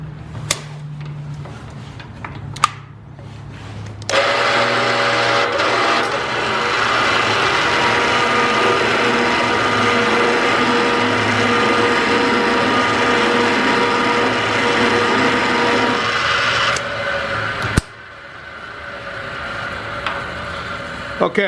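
A multi-angle cutter grinds a valve seat in a Chevy 454 big-block cylinder head, a loud continuous machine whir running for about thirteen seconds between quieter shop sounds and brief clicks.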